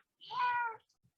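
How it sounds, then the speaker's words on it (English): A house cat lets out a single soft, drawn-out meow, faint and somewhat distant in a quiet home, with near silence around it. "you can hear a cat in the background since I'm working from home today"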